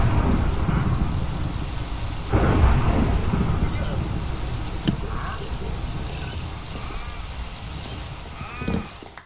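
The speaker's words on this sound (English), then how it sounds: "Oh, it's a thunderstorm now." Steady rain hisses through a Minecraft thunderstorm, with low thunder rumbles swelling around the middle and again near the end; a sheep bleats faintly in the mix.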